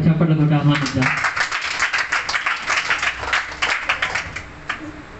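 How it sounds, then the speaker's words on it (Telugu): An audience at a church meeting claps to welcome a news reader, a dense burst of close applause that follows brief talk and then tapers off. "అందరు కూడా చప్పట్లు కొట్టి ఆహ్వానిద్దాం"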